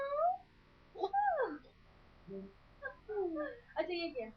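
A toddler imitates a cat's meow with a few short, rising and falling vocal mews amid adult speech, the voice close and fairly clear.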